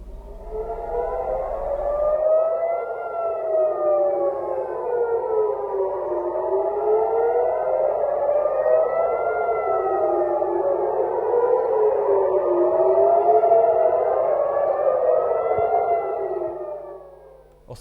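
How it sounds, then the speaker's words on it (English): A civil defense air raid siren in central Israel wails continuously during a missile alert, its pitch rising and falling in slow overlapping sweeps, loud and steady for the whole stretch with no voices. "The missile triggered sirens across several areas in central Israel."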